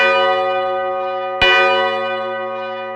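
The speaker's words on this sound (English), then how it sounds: "the clock struck for the first time in years." A clock tower bell, silent for years, strikes once partway through while the earlier ringing hum still fades; the fresh stroke rings loud and full, then decays slowly, with no other sound.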